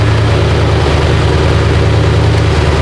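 A Ford F-150 Coyote engine idles loud and close just after an oil change, a steady low rumble with an even throb and no voices.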